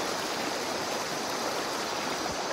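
River water flowing steadily, a continuous broadband rush at moderate distance with no voices over it.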